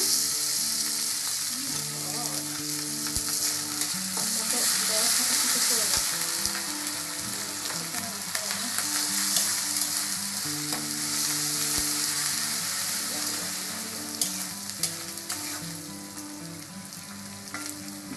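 Ginger garlic paste fries in hot oil for shahi chicken pulao, a continuous loud sizzle with occasional stirring scrapes, close and steady throughout.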